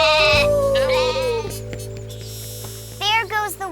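Sheep bleating in a children's fairy-tale scene about a wolf and a flock, several wavering bleats near the start and again near the end over a steady musical backing.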